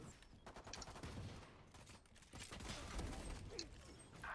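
Gunfire in the video game Valorant crackles in quick bursts and single shots amid other game effects, faint and compressed, with no voices.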